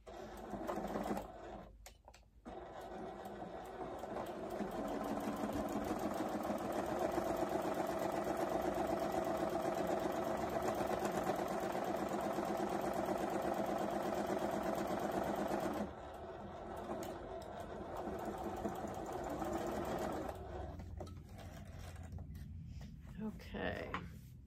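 A sewing machine stitches a quarter-inch seam on a duffle bag in a fast, steady whir, close and loud, halting and restarting briefly as the edges are backstitched, with someone talking at times.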